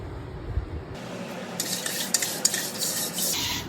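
A wire scrubber rasps lightly around the inside of a new earthen clay pot. Steady close scraping and rubbing, growing louder and brighter partway through, with no voices.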